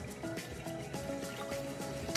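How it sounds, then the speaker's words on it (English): Water trickling and splashing into a cooking pot holding bitter melon, a steady close pour running without a break through the whole short stretch. "and we add some water"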